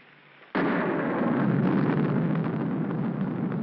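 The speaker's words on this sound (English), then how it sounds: "I'm afraid of the thunder and lightning." Thunder crashes in suddenly during a storm, a loud rumbling roar that starts abruptly after a quiet moment and rolls on steadily to the end.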